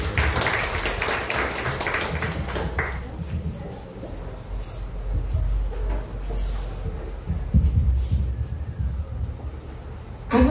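An audience at a reflection competition session applauds a speaker. A bright, dense burst of clapping for the first few seconds fades into quieter room noise with a few soft knocks and shuffles.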